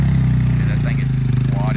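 A four-wheeler ATV engine idles steadily after starting, a loud close low throbbing hum with a regular pulse, heard under a voice.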